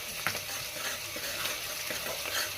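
A thick paste is stirred into a sizzling vegetable fry in a pan, with a steady crackle and occasional scraping strokes, close and unbroken with no talk.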